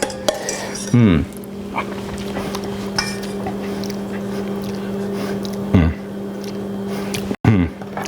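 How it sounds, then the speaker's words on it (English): A metal spoon picked up in a kitchen, clinking and clattering against dishes in three short bursts spaced several seconds apart, close by, over a steady electrical hum. "Let me grab a spoon real quick."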